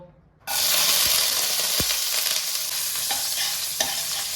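Chopped garlic hits hot butter and a little white oil in a wok with a sudden loud sizzle, then keeps frying in a steady bright hiss, with a few soft stirring taps along the way.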